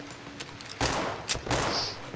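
Pistol shots fired in the horror video game Cry of Fear, a few sharp cracks with quieter noise between them, loud and close.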